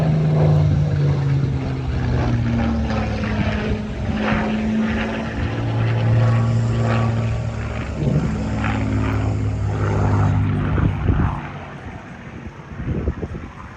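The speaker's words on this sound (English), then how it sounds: "is probably going to do a victory roll" A Supermarine Spitfire roars overhead during a victory roll at an airshow, its propeller engine droning loud and sustained with shifting pitch before fading slightly at the end.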